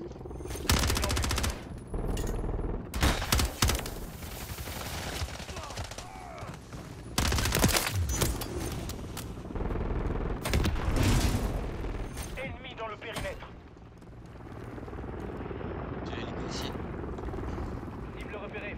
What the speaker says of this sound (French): Je fais un petit carnage avec la mitraillette.